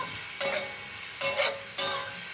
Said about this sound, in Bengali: 2 থেকে 3 মিনিট এমনি একটু নাড়াচাড়া করবো